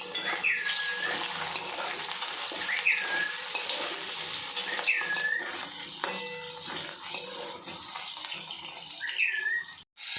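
Cornflour-coated food frying in oil in a wok, a continuous bright sizzle with some birdlike chirps in the background and a brief clatter at the end, no talk.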